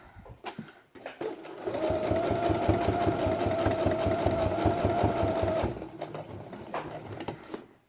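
A sewing machine runs steadily for about four seconds as it stitches the last section of a felt quiet book page, loud and close with a rapid mechanical whirr. Faint handling clicks come before and after.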